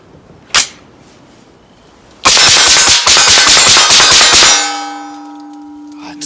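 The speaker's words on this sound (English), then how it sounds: "I wanna see how fast I can get off 10 rounds of this Sergeant Major here at 25 yards" Ten rapid rifle shots through a Northtac Ronin red dot at 25 yards outdoors, a loud dense burst of sharp cracks lasting about two seconds, followed by a ringing metallic tone from the steel target that fades out, after one earlier single impact.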